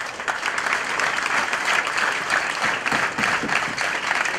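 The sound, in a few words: round of applause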